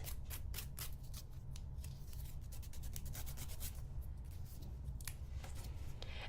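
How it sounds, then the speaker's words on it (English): A nail file scrapes away the excess edge of a nail wrap in quick, repeated raspy strokes, close and fairly loud, running continuously with a brisk uneven rhythm and no talking. "And then file away the excess."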